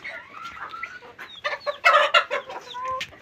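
Chicks and chickens in a broiler setup cluck and chirp close by in short, irregular bursts, several birds calling over one another in a quiet space.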